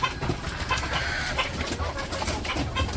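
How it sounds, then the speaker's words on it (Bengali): Large village roosters calling among other farmyard birds, with cooing and clucking mixed into a busy outdoor chorus, fairly close and continuous. "বড় বড় মোরগ হয়েছে তো, ডাকও দেয় এক একটা"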